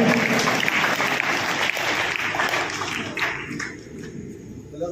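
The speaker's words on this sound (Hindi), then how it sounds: "जोरदार तालियां एक बार इनके लिए" Loud, dense applause from an audience at a school CBSE results ceremony honouring a student's family, sustained clapping that thins out and softens toward the end.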